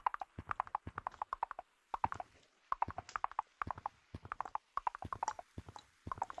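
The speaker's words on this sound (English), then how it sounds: "Giddy up, horsey!" Horse hooves clip-clop in a quick, steady rhythm while riding in a video game, crisp repeated clusters of hoof beats, fairly close and clean, with no talk over them.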